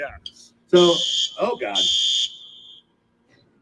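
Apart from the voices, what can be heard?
fire alarm going off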